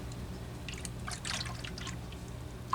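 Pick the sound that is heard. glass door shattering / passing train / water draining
water draining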